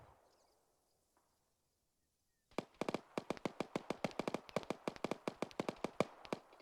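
Gunfire in a firefight from the game Task Force Athena: after near silence, a rapid series of sharp, loud shots bursts out and continues in quick, uneven volleys.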